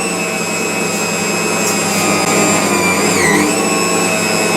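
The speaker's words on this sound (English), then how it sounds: "Sorry about the noise, it's the mixer in the background." A mixer kneads whole wheat bread dough, giving a steady, loud mechanical whir and hum that holds throughout the clip with a brief wobble in pitch near the end, and no voices.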